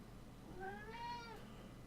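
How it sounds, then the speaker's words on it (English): A house cat meows once, a rising and falling call heard alone and at moderate volume over a quiet room hum. "Hey, cat, chill out."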